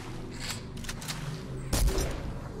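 Rapid bursts of gunfire in Fortnite from an aimbot hack firing through obstacles, with a louder close blast near the end over steady game background noise.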